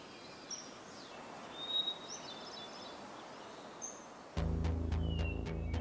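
Birds sing and chirp from riverside groves along the Tajo in Spain, several faint calls and whistles scattered over a soft ambient hiss, with a louder tonal sound cutting in near the end.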